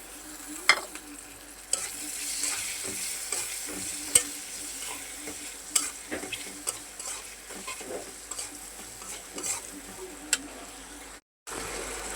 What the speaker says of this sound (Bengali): এখন মাছটা দিয়ে ভালো করে কষাই নিব।